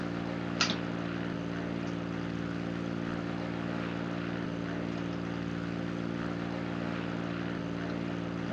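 Propeller airplane engine in a Roblox plane simulator game, a steady droning hum with tonal harmonics holding constant throughout, plus a brief sharp click near the start.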